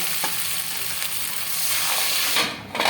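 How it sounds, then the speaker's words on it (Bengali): Papaya and potato curry gravy bubbling and sizzling steadily in a pan, a close, even hiss with small pops and stirring sounds, no voices. "ঝোল ফুটে গেছে।"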